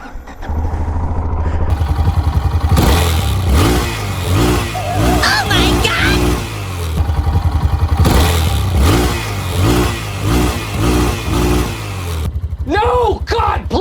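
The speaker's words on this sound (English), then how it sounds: "What does she sound like when you rev her up? What does a factory Yamaha XT660R sound like?" A factory-exhaust Yamaha XT660R single-cylinder motorcycle engine, close and loud, is blipped repeatedly with sharp throttle revs and choppy idle in between, then a voice speaks briefly at the end.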